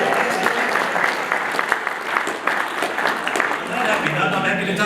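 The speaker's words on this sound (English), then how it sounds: "Give that lady a round of applause." A conference audience claps loudly and continuously, dense applause filling the room without a break.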